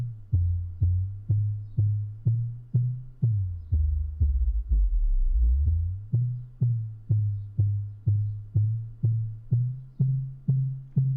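Synthesized kick drum in Bitwig loops with steady, deep thumps about twice a second while a narrow EQ band sweeps across it, the tone shifting and briefly swelling into a longer boomy rumble mid-sweep before the punchy kicks return.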